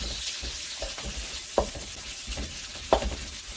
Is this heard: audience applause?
no